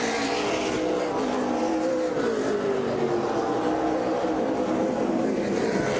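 Super late model race cars circling Norway Speedway, a loud continuous roar of engines with rising and falling pitch as cars run side by side through a turn, no voices heard.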